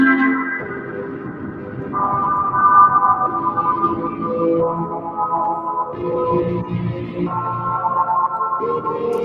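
Sustained synthesizer chords drenched in long, washy reverb, notes shifting every couple of seconds and blurring into one another at steady volume.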